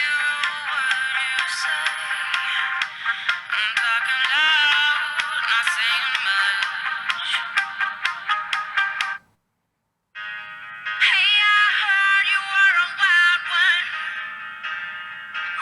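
Music plays from the small 0.5 watt speaker of a Zeblaze Rover smartwatch, thin and tinny, with a brief silent gap between tracks before the music resumes.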